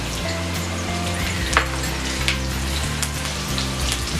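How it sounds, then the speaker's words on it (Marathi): Chopped green chilli frying in hot oil, giving a steady close sizzle with a few sharp pops and crackles and a constant low hum underneath. "आपलं तेल तापलंय, आपण याच्यात एक हिरवी मिरची आपण तुकडे करून घेतली आहे"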